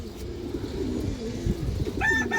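A female pigeon coos in low, wavering pulses nearby, and a short, higher chirp from another bird comes in at the end. No one talks.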